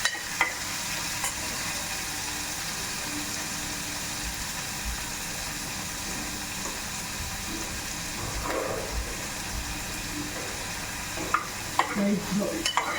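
Three chopped onions frying in a pan give off a continuous soft sizzle, and stirring adds occasional scraping and clinks, louder near the end.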